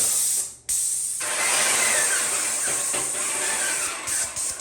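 A loud, continuous hiss of an inexpensive Harbor Freight paint sprayer painting over wallpaper, with a brief cutoff early on and a few short dips near the end.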